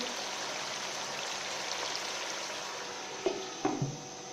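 Fish curry simmering covered on a low flame, a steady soft bubbling hiss throughout, with a few brief clinks near the end.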